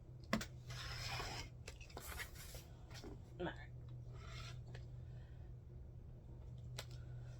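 Scissors cutting through cross stitch fabric to trim it to size, a faint, quiet rasping and snipping in short scattered bursts.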